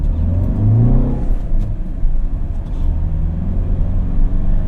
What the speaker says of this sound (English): as soon as you depress the clutch, the engine starts again